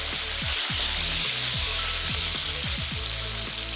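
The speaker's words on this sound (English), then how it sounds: "We're gonna heat some oil on high heat, and then we're gonna cook our meat first." Beef for lo mein frying in hot oil over high heat gives a loud, dense, continuous sizzle, with occasional stirring knocks underneath.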